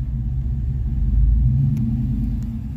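A Chevy engine idles at low RPM up close with a steady, deep rumbling throb and a slight swell in the middle. No one speaks.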